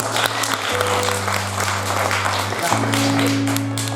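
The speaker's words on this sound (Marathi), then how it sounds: "जरा जोरदार टाळ्या वाजवा" An audience bursts into dense, sustained clapping, loud and steady throughout, with a voice and a low sustained musical tone running beneath it.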